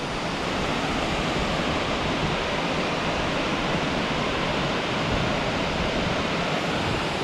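A Corsican waterfall on the Gravona pours its water over rocks, a steady, loud, unbroken roar of rushing water that fills the whole stretch with no voices.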